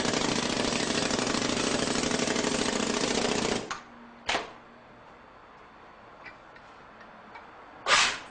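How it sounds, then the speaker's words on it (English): An air rammer compacts moist foundry sand in a mold, a loud rapid pneumatic hammering that runs for a few seconds and then stops, followed by a few short sharp bursts and quiet workshop background. "He uses an air rammer to compact the sand."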